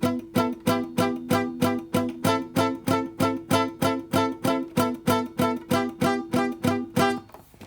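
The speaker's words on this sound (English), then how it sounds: "We're palm muting, putting our palm just off the bridge, and we're muting some of those strings" Palm-muted guitar strings, the palm resting just off the bridge to dampen them, played as a steady run of short, chugging, choked strums at an even rhythm, close and clear with no talking.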